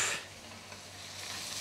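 Onions cooking down in a pan give a steady, soft sizzle throughout, with a brief stir or clatter right at the start and no talking.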